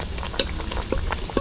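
Potato kachuri sizzling as it fries in hot oil, a steady bubbling hiss with a few sharp pops and clinks of a utensil, close and fairly quiet, with no talking.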